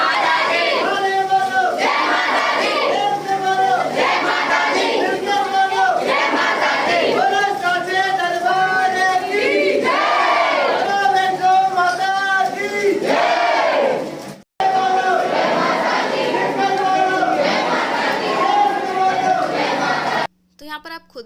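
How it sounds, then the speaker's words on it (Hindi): A large crowd of devotees at the Vaishno Devi temple in Vrindavan shouts rhythmic jaikara chants, loud and close, in repeated call-and-response bursts with a brief break near the middle. "पर आप खुद ही सुन सकते हो कि यहाँ पे कितने ज़्यादा जयकारे लग रहे हैं।"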